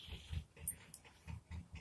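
A dog gives short, quiet whimpering and huffing sounds in a few soft bursts across a brief moment, close by, with no talk.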